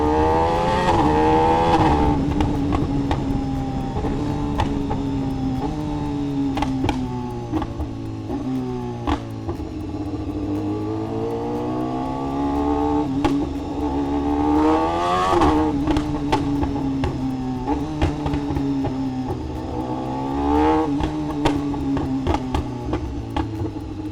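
A BMW S1000RR sport motorcycle fitted with an aftermarket exhaust rides along, its engine note rising and falling through gear changes, with loud crackling pops and bangs at low revs, close and continuous.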